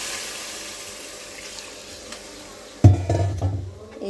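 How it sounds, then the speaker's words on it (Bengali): Water is poured into a pot of fried rooster chicken already mixed with spices: near-quiet kitchen background, then a sudden loud gushing splash that runs on, rising and falling, to the end. "এবার দিয়ে দেবো পানি।"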